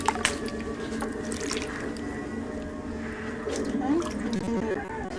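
Water splashing and squishing while a baby's hair is washed at bath time, soft wet sloshes and dribbles close by with a voice talking faintly in the background.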